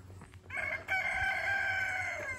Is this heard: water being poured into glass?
no